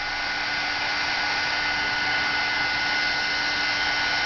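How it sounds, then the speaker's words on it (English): A heat gun blows hot air steadily onto freshly painted metal, a constant close whooshing roar with a steady hum and no pauses. "So I just kind of hit it with the heat gun."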